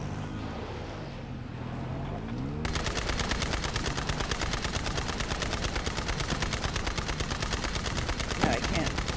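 Turret gunfire from Borderlands 3: after a muffled opening, a rapid, steady machine-gun stream of shots starts and holds loud and close until the end, with a brief extra bang near the finish.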